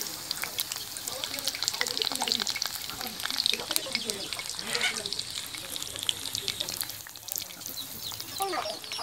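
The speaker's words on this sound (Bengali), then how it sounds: "আর এই যে কড়াইয়ে কিছুটা ভাজছি" Water lily fritters in rice flour batter fry in a wok, giving a dense crackling sizzle throughout. Occasional clatters sound close by, and speech is faintly present in the background.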